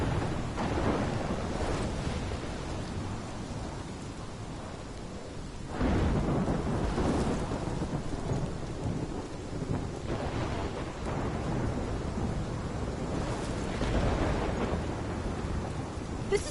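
A thunderstorm in the game Life is Strange rumbles with rolling thunder over steady heavy rain, swelling into louder crashes partway through, with no one talking.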